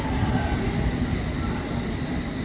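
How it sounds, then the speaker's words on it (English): A London Underground Circle Line train running between Great Portland Street and Baker Street gives off a loud, steady, close rumble and roar that holds without a break throughout. "This is a Circle Line train to Hammersmith."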